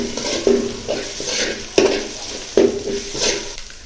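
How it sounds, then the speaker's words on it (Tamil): Spiced egg mixture with chilli powder and garam masala stirred in a pan for egg noodles, a soft sizzle under repeated scraping strokes and a few sharp metallic knocks of the spoon against the pan. "இப்போ இதெல்லாம் நல்லா கிண்டிக்கலாங்க."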